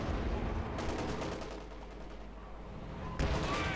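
Bursts of rattling gunfire from the Company of Heroes 2 World War II strategy game, machine-gun fire among them, crackle in rough, noisy volleys with a lull in the middle and a fresh burst at the end.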